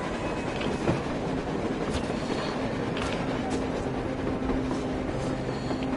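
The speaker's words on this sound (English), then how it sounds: "A train! A damn train on the surface!" A train rumbles steadily on the surface in the video game Metro Exodus, a continuous loud mechanical drone with faint clanks and a brief squeal, while voices talk over it.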